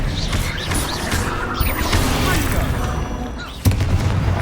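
Confringo fire spell blasts in the Hogwarts Legacy video game, rumbling booms and crackling bursts layered with battle noise, a sharp louder impact near the end, dense and continuous with no clear pauses.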